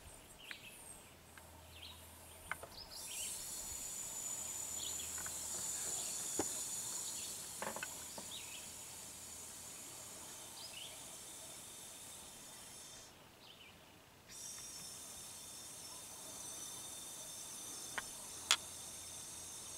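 Freon can releasing refrigerant into the low side valve of an Acura's car A/C system: a steady, faint gas hiss running throughout, with brief clicks and small knocks from the fittings scattered across it.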